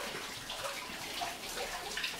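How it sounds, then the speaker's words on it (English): Gray water falling as an indoor waterfall inside an Earthship home with a planted living room, a soft continuous trickle and splash, quiet and steady throughout. "There is a waterfall here, as you can see."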